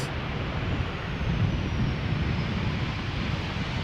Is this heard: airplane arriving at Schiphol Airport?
yes